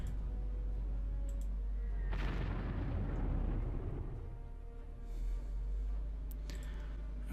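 An Italian bomber's attack in the video game Panzer Corps produces a muffled, rumbling explosion that swells and fades slowly, with a few faint clicks scattered around it.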